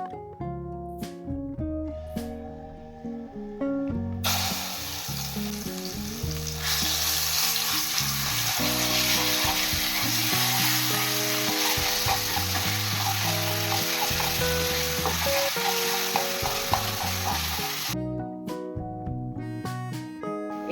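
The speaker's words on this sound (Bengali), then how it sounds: "এবার এই পটল ভাজা তেলের মধ্যেই হাফ চামচ কালো জিরে ফোড়ন দিয়ে 2 থেকে 3 মিনিট ফোড়নটাকে ভেজে নিয়ে পুরটা রেডি করে নেব" Nigella seeds crackle in hot oil left over from frying pointed gourd, a loud, steady sizzle that flares up suddenly and runs for several seconds over background music before cutting off.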